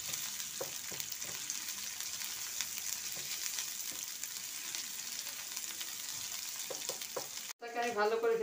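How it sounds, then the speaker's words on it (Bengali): Onion frying in a pan with garam masala spices sizzles steadily and softly up close, with occasional stirring scrapes, before a sudden louder burst of sizzle near the end. "তাকে আমি ভালো করে ভেজে নিচ্ছি।"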